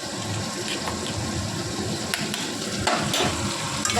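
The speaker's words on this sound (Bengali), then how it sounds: "এটাকে ভালো করে লাল লাল করে ভেজে নিচ্ছি" Potatoes fry in a pan with Kashmiri chilli spice paste for a vegetarian chickpea dish, a steady close sizzle broken by occasional stirring scrapes.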